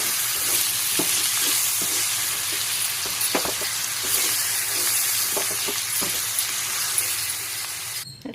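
Rice being stirred and fried in a kadai: a steady close sizzle runs throughout, with scraping stirring strokes scattered over it and no talking.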